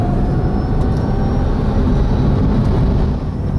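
A Smart ED electric car pulls away from standstill, a steady loud whine and road rumble that holds even across the whole stretch, with no talking.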